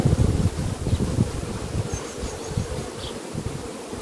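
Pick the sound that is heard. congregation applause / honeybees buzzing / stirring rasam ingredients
honeybees buzzing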